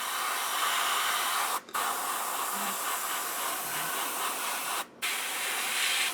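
An airbrush sprays paint onto a BT7 tank model in a steady close hiss, briefly cut off twice as the trigger is released.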